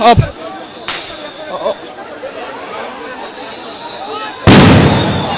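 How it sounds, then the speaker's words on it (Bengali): Sound grenades exploding one after another as police and army disperse a crowd at Dhanmondi 32: a sharp blast at the start, another near one second and a loud one toward the end, with crowd chatter between. "একের পর এক সাউন্ড গ্রেনেড নিক্ষেপ হচ্ছে এই মুহূর্তে ধানমন্ডি 32-এ"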